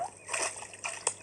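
A crocodile splashing about in a paddling pool in a children's cartoon, with a few short splashy bursts of water and brief sloshing.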